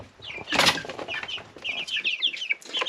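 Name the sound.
chickens (pullets) clucking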